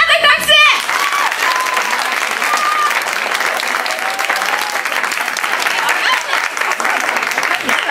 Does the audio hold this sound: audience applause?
yes